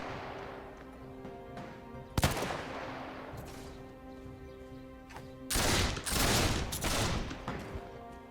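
Musket volleys and gunfire in a Between Empires battle as the French side: sharp crackling volleys hit loud at about 2 s and again from 5.5 to 7 s, layered over a steady mechanical hum.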